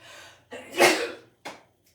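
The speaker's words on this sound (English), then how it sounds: "I'm going to sneeze." A man with allergies sneezes once, close and loud, during a home yoga session: a soft breath, a sharp explosive burst, then a short trailing sniff.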